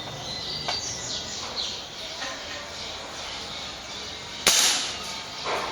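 Air rifle shot fired at a dove during a hunt: one sharp, loud crack near the end, standing out against quiet outdoor ambience with faint bird chirps.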